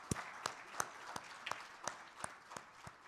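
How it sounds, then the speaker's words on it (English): A conference audience in Karachi claps for Professor Shabnam Naveed Kurejo, a faint, evenly spaced run of sharp claps that keeps a steady beat, without voices. "A big round of applause for her."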